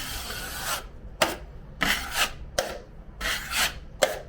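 Drywall knife spreading and feathering joint compound over a small wall patch, repeated rough scraping strokes in a steady back-and-forth rhythm, close and fairly loud, no talking.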